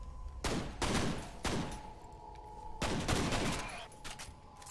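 Dual pistols firing in the video game F.E.A.R., a few loud close bursts of rapid shots separated by short pauses, with a faint lingering tone between volleys.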